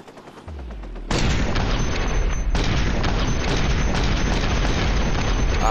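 Continuous loud gunfire in the video game Watch Dogs while a sniper rifle is drawn, starting with a few sharp reports and then becoming a dense, sustained barrage of close shots and booms.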